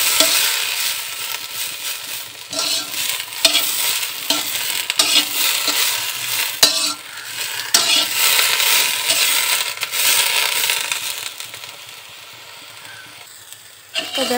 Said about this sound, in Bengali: আমি হালকা করে ভেজে নেব, শুধু যেন স্বাদ গন্ধটা ঠিক থাকে এই জন্য